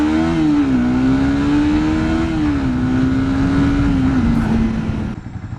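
A race car engine behind the car on the road gives a loud, steady droning roar whose pitch rises and dips slightly, then drops away near the end.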